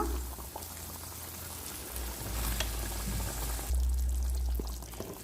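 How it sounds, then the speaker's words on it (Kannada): Hot water goes into a pan of sizzling corn capsicum masala, raising a loud hiss that settles into steady bubbling and frying, close and alone. "ಸ್ವಲ್ಪ ಬಿಸಿನೀರು ಹಾಕ್ಕೊಳ್ಳೋಣ."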